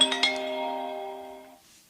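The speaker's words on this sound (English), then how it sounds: "here's my phone going off during the podcast." A mobile phone ringtone chimes out with a bright melodic tone that rises and then sustains, fading out after about a second and a half; the ring plays on its own, close and clear.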